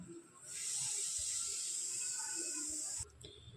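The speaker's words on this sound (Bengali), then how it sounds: "এগুলো আমি সব বেটে নিয়েছিলাম, দিয়ে এটা তেলের মধ্যে দিয়ে দিলাম" Ginger, mustard and cumin paste with green chilli and garlic sizzles in hot oil for a Bengali rohu fish curry, a steady bright hiss that swells after a moment, holds evenly, then cuts back near the end.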